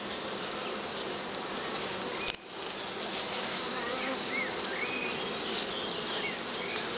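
Honeybees buzz continuously around an open beehive during an inspection, a dense close hum with a brief knock partway through and faint voices in the background.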